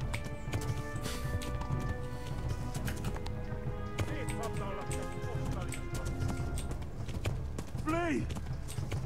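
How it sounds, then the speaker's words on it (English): Horse galloping in the medieval video game Kingdom Come: Deliverance, steady hoofbeats under someone talking, with a short whinny-like cry near the end. "I got the horse to gallop."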